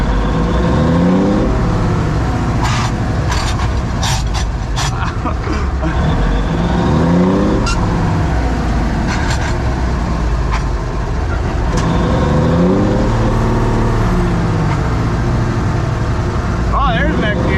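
A 1957 Hayes HD truck engine pulls loud and close, its pitch climbing, dropping at shifts and climbing again as it works up through the gears, with a voice talking over it.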